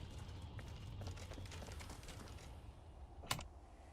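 Quiet clicking of a computer keyboard as someone types, soft irregular keystrokes over faint room noise, with one sharper louder click near the end.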